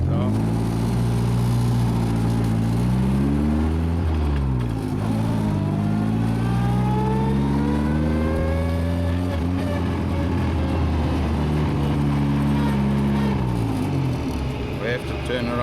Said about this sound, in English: Put it in first, handbrake it off.